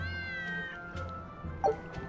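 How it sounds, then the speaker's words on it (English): Cats meow in the video game Tales of Berseria, a couple of short, fairly soft mews over a quiet ambient background. "Those are cats."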